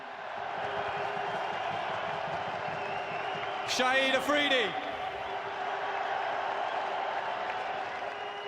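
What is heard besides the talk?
stadium crowd cheering at cricket prize ceremony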